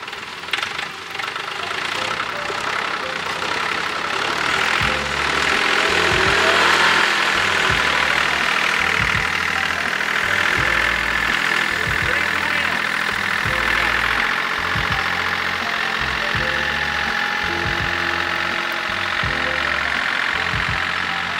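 A small tractor engine chugs steadily with rhythmic low knocking thuds, running under load throughout while pulling a Touareg SUV stuck in snow, with faint background noise.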